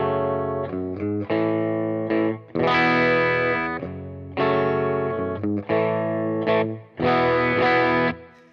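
A rhythm guitar part on a distorted, chorus-tinged electric guitar, played alone as loud strummed chords in short bursts and sustained stabs with brief gaps between them.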